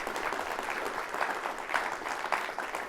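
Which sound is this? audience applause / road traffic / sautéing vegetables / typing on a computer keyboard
audience applause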